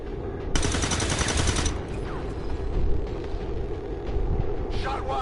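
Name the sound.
heavy gunfire in video game Earth Rising Coalition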